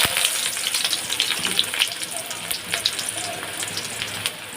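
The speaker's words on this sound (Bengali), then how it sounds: "তো এখানে কড়াইতে আমি তেল দিয়ে দিছি। এখন আমি এখানে দিয়ে দেবো পেঁয়াজ" Onions sizzle and crackle steadily in hot oil in a wok, a close, continuous frying hiss with small pops and spatters and no talking.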